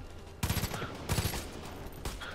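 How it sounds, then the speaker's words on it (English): Gunfire from a sniper in the Far Cry 5 video game, with three loud bursts of shots spread across a couple of seconds over a steady background bed. "There's some dude over there sniping."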